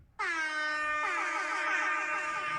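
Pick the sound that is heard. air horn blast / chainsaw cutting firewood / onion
air horn blast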